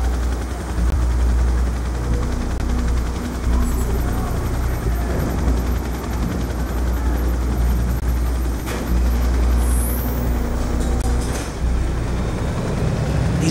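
Attack drones fly in a Call of Duty: Black Ops II battle, a loud, steady, rotor-like whir holding throughout with faint higher whines and bursts scattered over it.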